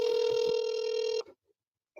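A telephone rings once while a call is transferred to a specialist, a single loud steady electronic tone lasting just over a second before cutting to silence.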